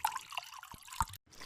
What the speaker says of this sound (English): And we have to add some vinegar to give the tangy taste.